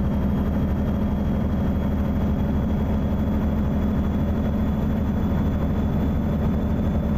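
A Mack Anthem Black Edition truck in American Truck Simulator rumbles along with a steady, loud low engine drone and road noise, constant and unbroken from start to finish.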